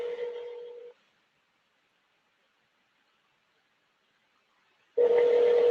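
A telephone call rings back with one steady ring tone that cuts off, about four seconds of silence, then the next ring starting up.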